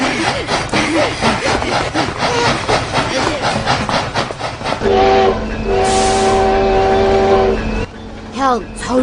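A train rumbles amid busy chatter and voices, then a long, loud horn blast sounds for a few seconds before the talk resumes.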